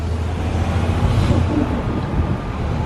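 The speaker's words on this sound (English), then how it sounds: "Hopefully that wind's not blowing too much." Wind blowing outdoors on a hot Florida street, a constant loud rumbling buffet across the microphone with no pauses.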